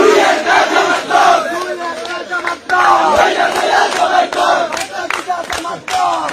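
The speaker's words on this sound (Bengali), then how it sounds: "ইলেকশনে জিতে আওয়ামী লীগের স্লোগান দিতেছে বিএনপি" Loud, close crowd of BNP supporters chanting political slogans at an election victory celebration, with rhythmic shouted call-and-response bursts and brief dips between chants.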